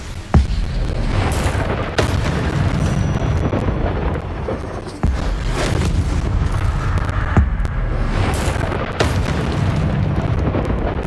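An Incendio fire spell cast in the Hogwarts Legacy video game, heard as a series of sharp booming bursts at irregular intervals over a constant roaring, rumbling background, loud and close.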